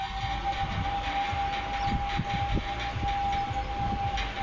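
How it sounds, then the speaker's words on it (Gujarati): Siren wailing at a waterpark, a sustained steady tone with a continuous whine under a busy crowd and splashing background, unbroken across the whole stretch, with no clear speech. "સાયરન વાગ્યું સાહેબ, સાયરન વાગ્યું."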